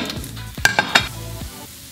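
Food frying crisp in a pan for breakfast tacos, with a steady sizzle under a few sharp scrapes and clinks from stirring with a utensil, close and fairly loud.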